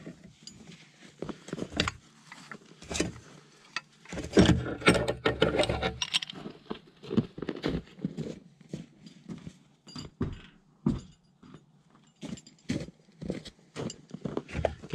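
Bolts being fitted to mount a winch onto a homemade sawmill bed, heard as close metallic clinks, rattles and ratcheting clatter in irregular bursts, busiest midway, with no voices.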